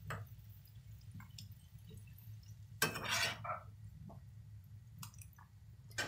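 Sautéed vegetables are tipped into a cooking pot from a slotted ladle, a soft wet squishing clatter of metal and food, quiet and close, followed by faint scattered clinks over a low kitchen hum.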